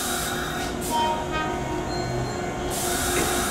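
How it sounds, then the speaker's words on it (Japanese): A limited express train rolls into a station platform in Japan, a steady low rumble of wheels and motors with faint squeals and a brief higher tone, heard from the platform without talk. "ただいま到着の電車は"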